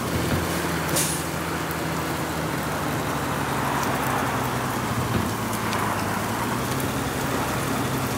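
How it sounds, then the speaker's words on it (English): Rain falls steadily in the 18 Wheels of Steel truck driving game, a dense, constant hiss over a low engine rumble that runs unbroken throughout. "Oh, it rains."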